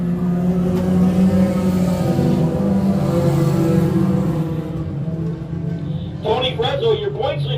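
Four-cylinder Thunderstock race cars accelerate together at the green flag at a speedway, their engines forming a loud, sustained droning roar while an announcer talks over them.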